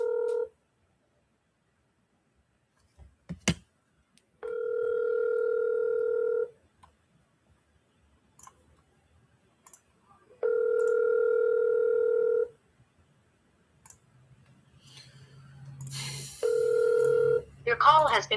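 A telephone call rings out before going to voicemail: three long ringback tones with pauses between them, clear and close, and brief speech near the end.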